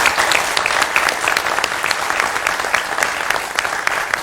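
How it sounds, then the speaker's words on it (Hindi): A studio audience on a televised Hindi debate show about the Waqf Board amendment claps steadily to welcome a guest, a sustained, even round of applause with no talk over it. "तालियों के साथ स्वागत कीजिए।"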